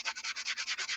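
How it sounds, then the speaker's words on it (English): A cheap sanding block rubs back and forth along the edge of a small wooden piece, nine quick, even scraping strokes in a steady rhythm, close and clear. "just sand down the edges since this is a wood little surface"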